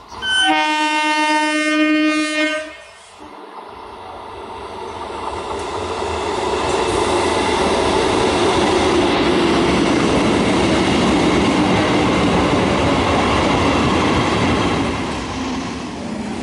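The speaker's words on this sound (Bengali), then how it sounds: "হাওড়া যাবার ট্রেন আসছে।" A local train bound for Howrah pulls into a station platform, blasting a loud horn, then rumbling and clattering steadily as it rolls in, used as a sound effect in a Bengali audio drama.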